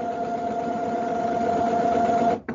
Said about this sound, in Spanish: esperemos que la impresora se puso a limpiar cabezales